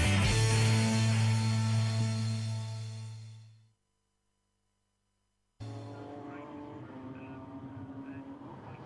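A race car leaving the pits at Silverstone during the 2010 Britcar 24 Hours: a loud, close engine roar fades away over a few seconds, then after a short silence another engine drone picks up, steady and somewhat distant.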